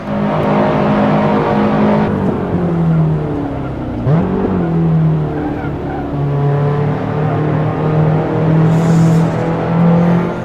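A race car engine in the Assetto Corsa video game, loud and close, holding a strong tone, dipping and rising in pitch through a chicane with brief tire squeal, then revving steadily again.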